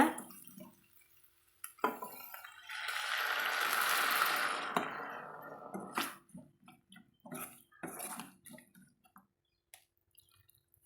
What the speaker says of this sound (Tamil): தேவையான அளவு தண்ணி ஊற்றி இது கொதிக்கட்டுங்க